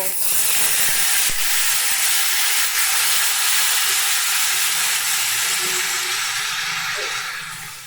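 A loud, continuous sizzling hiss as water is poured into hot oil and frying spices for a cauliflower curry, steady throughout and easing off slightly at the end.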